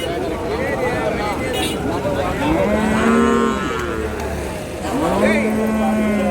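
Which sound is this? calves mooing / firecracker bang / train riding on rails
calves mooing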